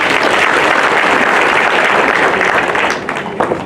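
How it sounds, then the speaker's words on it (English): An audience applauds at a hospital's 120th anniversary ceremony, loud dense clapping that holds steady and then thins out toward the end, with no talk. "Let us give Bwana CEO Dr. Julius Ogato another round of applause, ladies and gentlemen"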